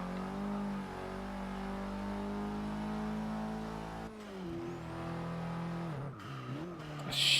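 A hot hatch racing car in Forza Motorsport 6 holds a loud, steady engine drone, then brakes hard with falling revs and squealing tyres. It re-accelerates with the pitch climbing, dips again, and ends in a sharp burst of tyre or impact noise.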